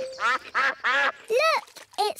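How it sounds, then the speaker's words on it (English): Ducks quacking in an animated cartoon picnic scene, five loud nasal quacks in quick succession, close and clear with no talk over them. "Look, it's the ducks."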